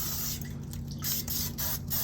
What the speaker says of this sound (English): Let's go ahead and spray it down a little bit more.